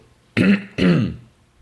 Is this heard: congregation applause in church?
no